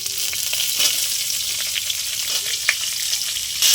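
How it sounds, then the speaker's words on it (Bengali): Chopped onions fry in oil with whole cardamom, cinnamon, bay leaf, cumin and chilli for a mutton and green jackfruit dish, making a constant close sizzle with a few light stirring knocks. "পেঁয়াজটা ভাজা ভাজা করে নেব"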